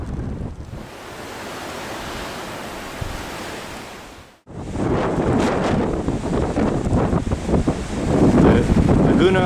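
Strong wind in Chilean Patagonia near Lago Grey buffets loudly, gusting steadily, then briefly drops out before returning even harder with rushing, turbulent noise.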